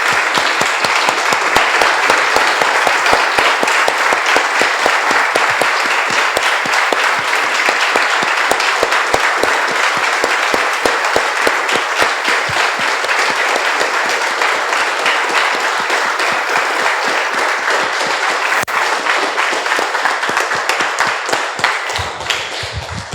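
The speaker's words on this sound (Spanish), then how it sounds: "Damos un aplauso, hermanos." Church congregation giving a long round of applause, loud and close, with many hands clapping in a dense, sustained patter that tapers slightly toward the end.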